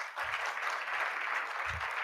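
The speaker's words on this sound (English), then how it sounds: "And the round of applause," Audience applause at the C20 South Africa launch event, a soft, steady patter of many hands clapping that continues evenly for about two seconds, somewhat distant.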